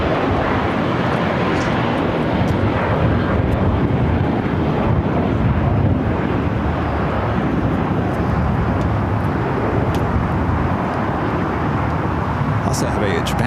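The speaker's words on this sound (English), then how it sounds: "Also have a Japan Airlines Dreamliner also pushing it back there in the alleyway." A Japan Airlines Dreamliner is pushed back at Los Angeles International Airport, heard as a loud, steady jet engine roar with wind rumble throughout, while voices talk over it.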